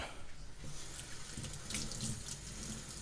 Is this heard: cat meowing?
no